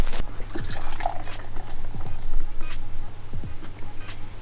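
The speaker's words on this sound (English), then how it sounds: "Can't start without a shitly poured beer" Beer poured at a brewery during a bike build, with liquid splashing and gurgling close by and a few knocks and clinks around it.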